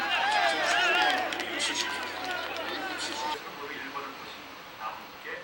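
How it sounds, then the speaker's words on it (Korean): A racecourse paddock crowd at a 2002 Grand Prix horse race fills the air with dense cheering and shouting, loud at first with whistle-like voices, then easing into a softer babble of chatter. "예시장에 어느 때보다 뜨거운 응원의 함성 소리가 울려 퍼진다"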